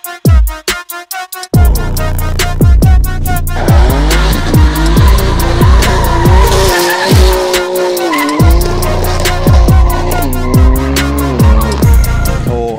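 A BMW M3 launching hard in a drag test, loud engine revving through rising and shifting tones with tires squealing, preceded by a few sharp pops.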